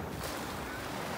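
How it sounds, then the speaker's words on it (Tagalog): Ocean waves wash onto a black sand beach at Bucana, Batangas, a steady broadband rush of surf with wind buffeting the microphone and no talking. "Tingnan po yung alon doon po."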